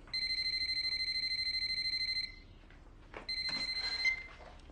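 A telephone rings in a tense thriller scene: a loud, steady electronic trill of about two seconds, a short pause, then a second ring cut off partway through.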